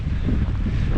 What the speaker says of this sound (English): Very difficult to try and record anything when it's raining and really windy